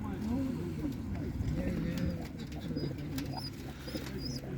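Soft pigeon cooing repeats over a busy animal market murmur, with faint clip-clop-like knocks and distant voices.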